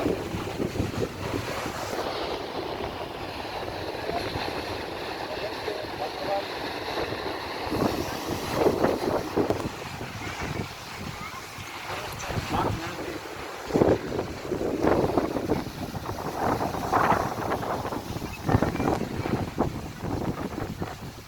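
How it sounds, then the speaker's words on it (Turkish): Rushing water roars steadily at Düden waterfall in Antalya, with gusts of wind buffeting the microphone throughout and no voices on top. "Düden şelalesi bu şekilde."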